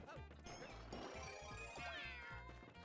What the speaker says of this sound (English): that really does sound like the Henry's Cat meow, too